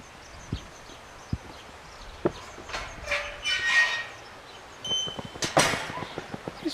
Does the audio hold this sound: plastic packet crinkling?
no